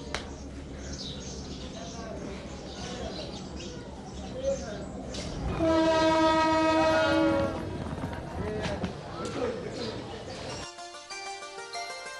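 A train rumbles along with a loud sustained horn blast in the middle, clattering rail noise before and after, under a background of speech and music.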